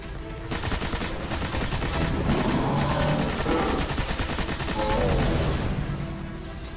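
Rapid bursts of gunfire from the video game Destiny, a dense fusillade that runs steadily for several seconds at close range, with no talk.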